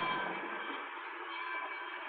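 A train on a local branch of the Grand Trunk Railway running near Port Huron, a steady dense rumble and roar of rolling cars, loud and continuous throughout with no breaks.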